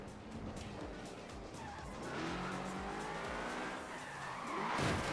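A car drifts in the racing game Forza Horizon 4, with a sustained engine roar under continuous tire squeal and skidding that swells and peaks near the end, heard without talk.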